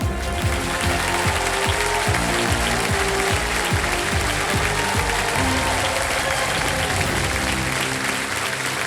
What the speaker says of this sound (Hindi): जोरदार तालियों के साथ बहुत बहुत स्वागत है आप सभी का